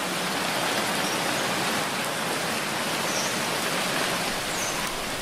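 Steady rain falls on a wedding day at a resort, a dense, even hiss of drops on surfaces that continues without pause and without voices.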